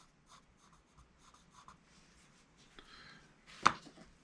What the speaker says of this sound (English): you don't need too much pressure to get a dark line